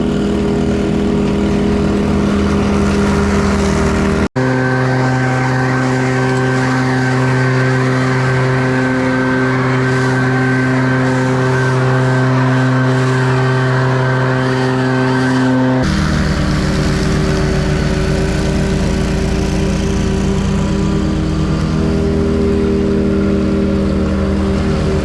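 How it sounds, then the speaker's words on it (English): A leaf blower pushes debris off a paved area into a lawn, giving a loud, steady motor drone with a constant whine, close by, with a brief break in the middle and no voices. "I'll probably just take the blower and start blowing this right into the yard."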